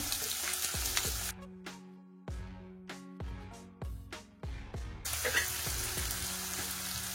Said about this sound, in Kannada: ಕಟ್ ಮಾಡ್ಕೊಂಡಿದ್ದೀವಲ್ಲ ಆ ಈರುಳ್ಳಿನೆಲ್ಲ ಹಾಕೊಂಡು ಫ್ರೈ ಮಾಡ್ಕೋಬೇಕು.